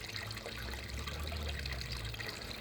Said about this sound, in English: At the moment the water comes out the top there and goes into the next bin at the bottom.